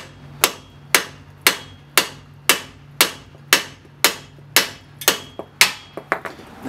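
Sharp metal hammer strikes ring out about twice a second in a steady rhythm, a dozen blows close by, driving a castle nut onto a Ford Taurus CV shaft, quickening and softening slightly toward the end.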